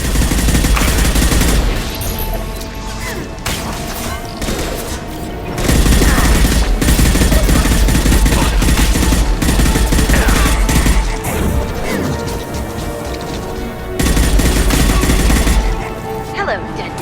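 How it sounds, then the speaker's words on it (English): Heavy gunfire from an impact gun in the Mass Effect 2 video game, loud sustained bursts with booming blasts and crashes, dense and continuous across the whole stretch. "Firing an impact gun!"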